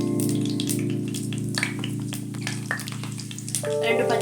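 Mustard seeds, cumin, chana dal and urad dal crackle and fry in hot oil, a steady close sizzle with scattered pops, a kitchen hum running underneath and a brief clatter near the end.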